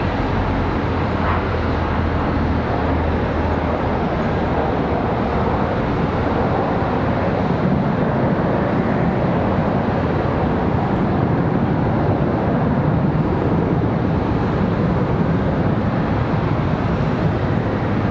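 Airliner touching down at Charlotte Douglas International Airport, a steady distant roar of engines and rushing air that holds loud and even throughout.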